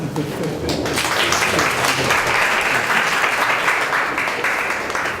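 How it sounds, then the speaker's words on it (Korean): Sustained audience applause at a Korean event gathering, steady dense clapping filling the room for several seconds with some voices mixed in. "그러면 한 번만 더 박수 좀 부탁드리겠습니다"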